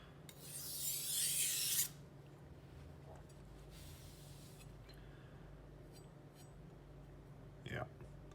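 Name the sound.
kitchen knife edge stroked on a sharpening stone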